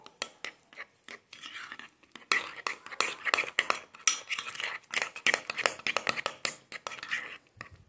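A tablespoon of sugar stirred with a spoon in a small bowl: quick, rapid clinks and scrapes of metal on the bowl in a dense, irregular rhythm, close and crisp, with no speech.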